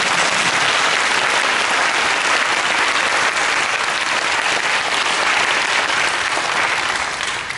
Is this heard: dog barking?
no